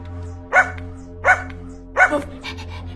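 A person imitates a dog, giving three evenly spaced, close barking yelps followed by a softer trailing yip.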